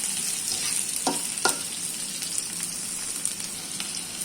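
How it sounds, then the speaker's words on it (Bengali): Onion, bay leaf, cinnamon and cardamom fry in hot oil for chicken curry, giving a close, steady crackling sizzle with a few sharp spatula clinks and no speech. "তেজপাতা দারুচিনি এলাচ এগুলো আমি কিছুক্ষণ ভেজে নেব"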